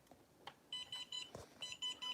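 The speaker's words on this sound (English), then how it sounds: "that alarm just lets you know what the radio's turned on." Repeated high electronic beeps from an RC radio transmitter sounding its power-on alarm, a steady string of short tones with brief gaps, close and fairly clear.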